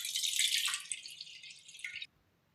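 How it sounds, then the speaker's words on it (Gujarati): Water drains and drips from soaked mung dal. A soft, trickling patter runs for about two seconds, fairly close, then stops abruptly. There is no talk over it. "આપણે મગની દાળમાંથી પાણી કાઢી લેશું."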